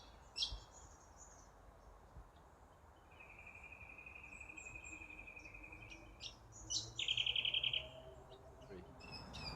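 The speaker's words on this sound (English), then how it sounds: "the bird life in this little pocket of land is quite amazing." Faint, scattered bird chirps and a short trilled call over a steady low background hum, distant and sparse.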